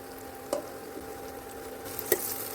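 Onion and chicken frying in a pan make a quiet, steady sizzle, broken by two sharp clinks of stirring; no one speaks.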